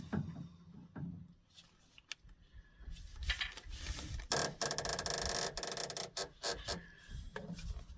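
Fuel filter drain on a 2015 RAM with Cummins diesel being turned counterclockwise by hand, giving close, uneven rubbing and rasping scrapes that grow denser and louder toward the end, with no talking.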